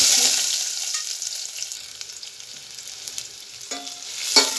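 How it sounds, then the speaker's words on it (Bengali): Chopped onion sizzles in hot oil in a pan while a broiler chicken curry is being cooked, giving a steady, close crackling hiss with a few sharper pops and clinks near the end. No one speaks. "তেলটা আমার গরম হয়ে গেছে দিয়ে দেবো পেঁয়াজ"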